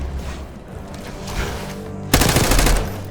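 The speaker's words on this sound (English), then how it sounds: "You hearing gunfire?" Gunfire in Call of Duty: Black Ops 6, a muffled, distant rattle of automatic shots that jumps to a louder, denser burst near the end.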